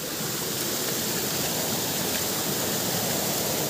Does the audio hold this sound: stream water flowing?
yes